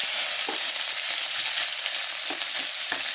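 A paste of ground onion, green chilli, ginger and garlic hits hot oil, giving a loud, continuous close-up sizzle with a few faint stirring knocks underneath.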